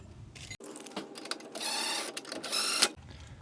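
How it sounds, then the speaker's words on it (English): Ratcheting socket wrench tightening lock nuts on a mobility scooter canopy mount, giving quick close bursts of metallic clicking and rasping in short irregular strokes. "we'll get our wrench and our socket set"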